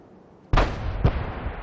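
Tank cannon fire in the video game World of Tanks: after a short quiet lead-in, one loud, booming shot hits hard, and a second blast follows about half a second later while the rumble lingers.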